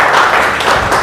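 A meeting audience at a Renatus Wellness gathering applauds a director, a brief dense burst of many hands clapping together, loud and close throughout.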